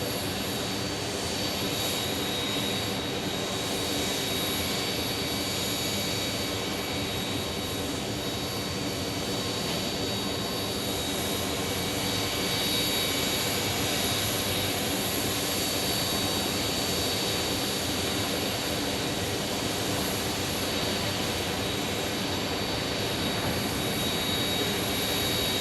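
An American Airlines A321neo jet airliner at Phoenix Sky Harbor Airport gives a steady, broadband engine roar that holds evenly for the whole stretch, with a faint high whine on top and no talk.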